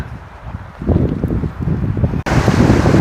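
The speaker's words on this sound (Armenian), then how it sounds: "նենց էլ քամի է" Strong wind beside a river buffets the microphone in a steady, loud roar with gusty swells, rising further toward the end.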